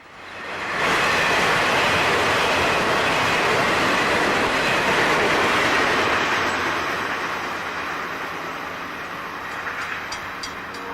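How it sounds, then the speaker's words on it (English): A Florida East Coast Railway northbound work train of empty ballast hoppers rolls slowly through downtown St. Augustine, a loud, steady broadband rumble and rattle of cars passing close by, sustained throughout and easing slightly toward the end. "A northbound work train of empty ballast hoppers heeds the 25-mile-per-hour limit through downtown St. Augustine"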